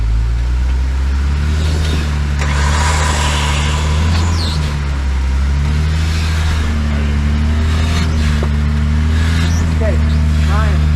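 A 2006 Jeep LJ crawls through a rock garden, its engine droning and revving in uneven surges as the tires spin, loud and close, with people talking and shouting over it.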